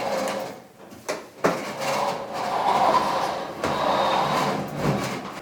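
A clothes dryer being shifted back into place after vent cleaning, with scraping and sliding rumbles plus a few sharp knocks and bumps at close range.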